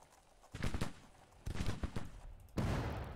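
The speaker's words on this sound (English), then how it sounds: "We're coming under fire now" Ragged musket volleys from Grand Tactician: The Civil War crackle in three dense bursts at a moderate distance, each a rolling spatter of many shots that trails off before the next erupts.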